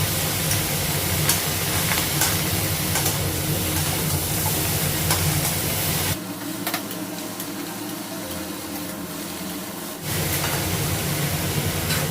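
Food fries in a pan in a home kitchen, a close, constant broadband sizzle and hiss that drops in level for a few seconds midway before returning at full strength.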